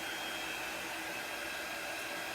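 A heat tool blows a steady, loud broadband hiss like a hair dryer, drying chalk paste on a vintage truck craft project, continuous and close with no talk.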